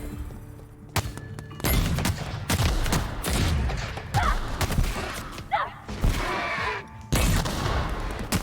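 Repeated booming blasts and gunfire-like bursts in the video game The Outer Worlds, loud and close, with sharp impacts spread across the stretch and a few short gaps of quiet.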